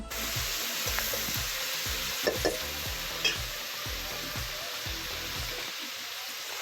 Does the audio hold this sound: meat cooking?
yes